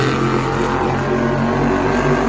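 The Avenger monster truck at a Monster Jam show in Houston, its big engine roaring in a loud, steady, sustained rev with deep rumbling harmonics filling the arena.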